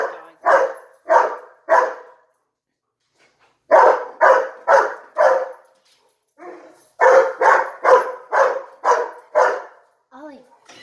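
Ollie the dog barks insistently up close in three rapid bursts of several barks each, separated by short silences, ending with a brief high whine.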